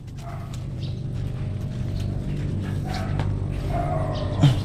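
A pet dog outdoors giving a few short barks and yips over steady background noise, fairly close, with no talking.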